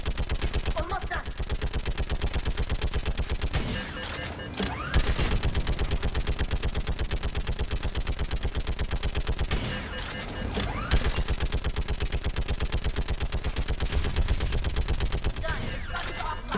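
Rapid automatic gunfire in the Mass Effect video game, sustained bursts of loud clattering shots with brief pauses, mixed with game sounds.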